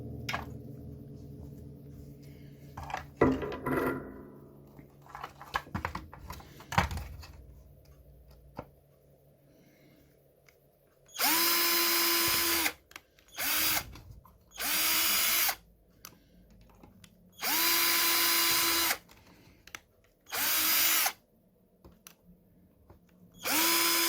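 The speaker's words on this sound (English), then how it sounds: "I'll get it all masking taped up, then I'll drill it on camera." A power drill boring holes in a Rubies Ghostbusters ghost trap prop, several loud close bursts of high whine separated by short pauses, preceded by quieter handling clicks.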